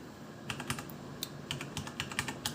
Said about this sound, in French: On a un clavier mécanique, un Corsair K70 RGB MK2.